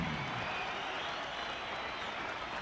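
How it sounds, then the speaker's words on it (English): A dense, steady wash of applause from a large crowd at a boxing match at a state fair in Phoenix, Arizona, sustained without a break and fairly loud throughout. "let's have a round of applause one more time for Johnny Tapia and John Michael Johnson."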